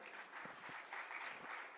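Audience at a school old students association inauguration applauding, a continuous soft patter of many hands at low volume with slight surges.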